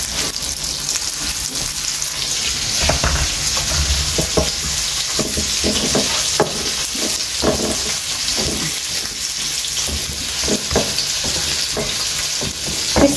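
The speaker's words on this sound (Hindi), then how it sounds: "क्रिस्पी रवा फ्राय लेप्यो." Semolina-coated lepo fish sizzling steadily in hot oil in a home kitchen, a continuous crackling fry with scattered pops and small clinks, no talking.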